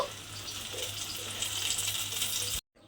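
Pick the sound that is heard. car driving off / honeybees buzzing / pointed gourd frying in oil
pointed gourd frying in oil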